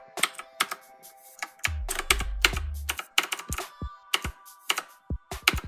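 Typing on an RGB mechanical keyboard: a close, crisp run of clicky keystrokes in uneven bursts, with a low thump partway through, and no talking.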